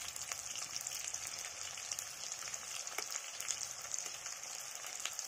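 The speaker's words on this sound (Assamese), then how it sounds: "অলপমান ভাজি লওঁ পিঁয়াজখিনি" Chopped onions fry in oil in a pan with a continuous crackling sizzle, dense bright popping spread evenly throughout at a moderate, close level, no voices over it.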